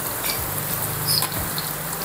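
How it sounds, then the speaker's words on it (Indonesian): Chips deep-frying in oil over a high flame, a steady close sizzle running throughout with soft bubbling crackle and no talk. "Ini aku goreng memakai api yang besar."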